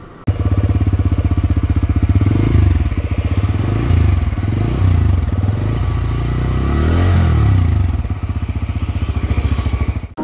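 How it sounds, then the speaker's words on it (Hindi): A TVS Raider 125 motorcycle's exhaust runs close and loud, holding a steady, throbbing beat with several swelling revs before the engine cuts off abruptly at the end. "चलो थोड़ा सा एग्जॉस्ट का साउंड सुन लेते हैं।"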